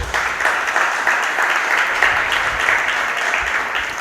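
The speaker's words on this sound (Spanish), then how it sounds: "Vamos a darle un aplauso en esta noche." A church congregation applauding at an evening worship service, with continuous, fairly loud clapping from many hands filling the room with no speech over it.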